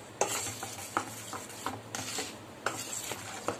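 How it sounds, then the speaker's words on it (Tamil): A spoon stirs a dry spice mix of garam masala, pepper powder and salt for Afghani chicken, giving a string of soft scraping strokes and light clinks against the bowl, close and quiet, without voices. "எல்லாத்தையும் நல்லா mix பண்ணிக்கோங்க"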